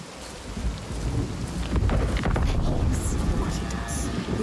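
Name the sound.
rain in Senua's Saga Hellblade 2 video game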